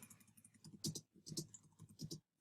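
Rapid typing on a computer keyboard, keys clattering in quick irregular bursts with brief pauses between flurries, close and fairly quiet, with no voices.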